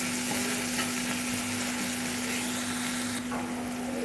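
Spices with red chilli powder and salt fry in a pan, a dense, steady sizzle close up with a constant tonal hum beneath it, and no talking.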